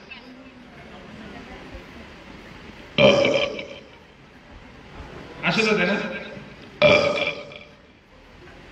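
A voice imitates burping with three loud, drawn-out belches, separated by pauses and short bits of speech.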